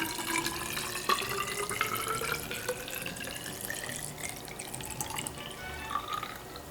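Water pours into a hydrometer tube during home brewing gravity testing, a faint, steady trickle with rising pitch as the tube fills, quiet and alone.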